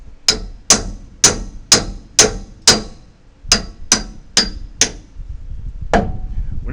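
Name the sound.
clamp biting onto a small log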